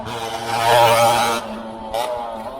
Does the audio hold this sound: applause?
no